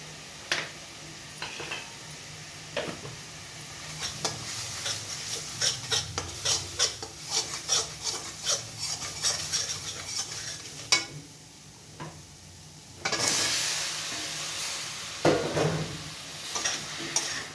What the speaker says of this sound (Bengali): কষে নিব ভালো করে জল দিয়ে দিয়ে একটু কষে নেব